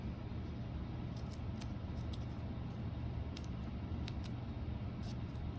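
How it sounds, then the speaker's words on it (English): Scissors snip through paper cutting out triangles, a series of short crisp cuts scattered irregularly over a steady background hum, close and fairly clear with no talking. "And I'm gonna start cutting out my triangles."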